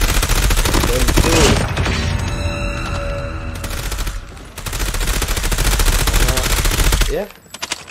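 Switchblade-X9 gunfire in a shooter video game, loud sustained automatic bursts with a short pause midway, then a second long burst ending abruptly.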